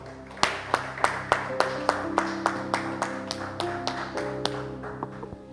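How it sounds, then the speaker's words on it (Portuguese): A church congregation claps in rhythm after a sermon, with steady evenly spaced beats about twice per second, with sustained organ or keyboard chords underneath. "E um aplauso ao Senhor."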